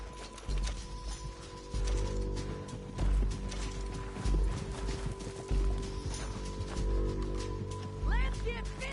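Horse hooves clip-clopping in a PlayStation 4 video game, a steady trotting rhythm of hoof beats with an occasional whinny, while voices talk over the game sound.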